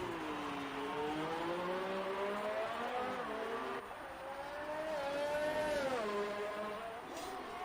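A race car engine in a Formula-style racing game on a qualifying lap at the Singapore Grand Prix, droning continuously with rising and falling revs through gear changes, steady and fairly loud.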